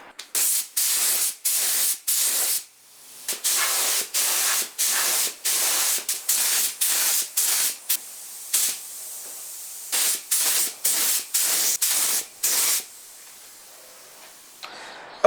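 Spray paint hissing onto a small cast iron sign from a Wadkin Bursgreen machine, in many short bursts of steady, close, loud spray separated by brief pauses, with a quieter sustained spray near the end.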